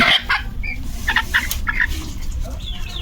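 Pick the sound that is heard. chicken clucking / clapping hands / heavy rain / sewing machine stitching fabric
chicken clucking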